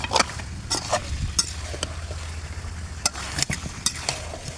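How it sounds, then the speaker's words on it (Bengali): A spoon stirs meat with a spoonful of cumin paste in a pan over a clay stove, giving close scraping strokes and clinks over a steady low sizzle, with no talk. "এক চামচ জিরা বাটা দিয়ে আবারও একটু ভালোভাবে নেড়ে দিচ্ছি"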